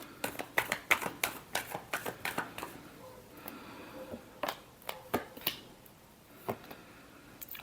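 Tarot cards are shuffled by hand in quick, crisp bursts of riffling and slapping, close and fairly quiet, with short pauses between rounds.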